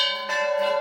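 Temple bells at a Hindu shrine in Uttarakhand ring out with a bright metallic clang, a sustained humming tone hanging under repeated close strikes.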